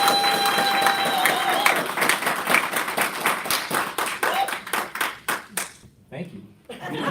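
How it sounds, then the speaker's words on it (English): An audience at a field hearing bursts into clapping that is loud and dense at first, then thins into scattered individual claps before fading out, with some chuckling. "Don't they let you speak first before you applaud?"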